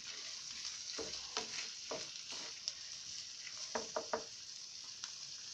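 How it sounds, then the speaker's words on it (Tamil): Chillies being sautéed in a pan for chutney give a soft, steady sizzle with clusters of light scraping stirs, quiet and close with no speech. "ஸோ இதை போட்டுட்டு நம்ம ஜஸ்ட்டு ஒரு 2 நிமிஷம் நல்லா வதக்கிக்கலாம்"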